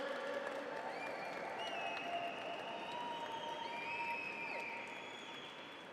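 Steady applause from an awards-dinner crowd, with tables being banged, dense clapping, scattered whistles and cheers throughout, tapering slightly at the end.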